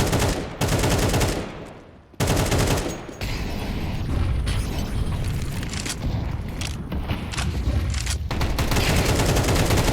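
Pistol fire in Counter-Strike on the Ancient map during a competitive match: rapid, loud, overlapping shots pile into a near-continuous volley, with a short pause early on before the firing picks up again.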